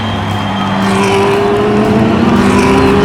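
Hot Wheels toy cars race through the final turn, a steady loud whirring drone with a rising motor-like whine that holds for the full few seconds, no voices over it.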